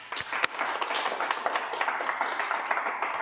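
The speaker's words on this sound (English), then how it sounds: "we might give Richard a big round of applause" Applause from a seminar audience at a sustainability speaker series, dense steady clapping with a few sharper claps near the start, running evenly throughout at moderate level.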